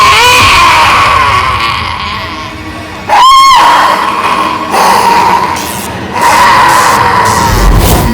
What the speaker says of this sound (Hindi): चिल्लाने की आवाज सुनी?